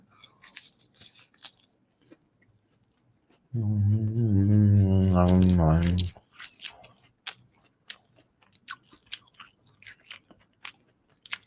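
Crunchy snack food being chewed close to the mic during an ASMR eating session, with scattered crisp bites and crunches, a sustained hummed or voiced tone in the middle, and quiet pauses between.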